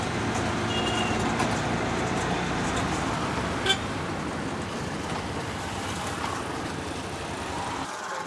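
A rickshaw ride through busy city traffic in Jaipur, with a steady wash of engine and road noise from cars, buses and trucks, one short horn toot partway through, and no talk.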